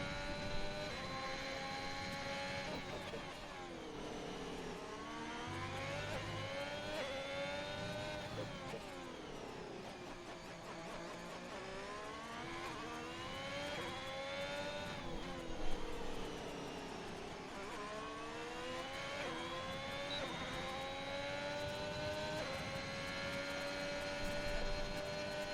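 A Ferrari race car in a racing video game, on a lap of the Hungary circuit, its engine whining steadily with rising and falling pitch sweeps through gear changes and corners, continuous and moderately loud with no talking.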